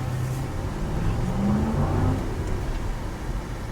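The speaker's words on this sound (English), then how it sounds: "Give it some gas as we come to a stop." A 2004 Lexus LX470's engine rising under throttle as the SUV slows toward a stop, a steady close mid-low drone with a brief climb in revs over road noise inside the cabin.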